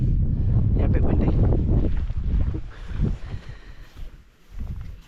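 Strong wind buffets the microphone out on Dartmoor, with loud roaring gusts at the start that ease and then rise again toward the end.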